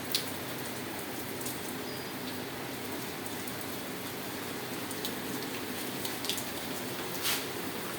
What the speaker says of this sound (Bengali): এত বৃষ্টি আজকে কাতারে, প্রচুর বৃষ্টি হইতেছে।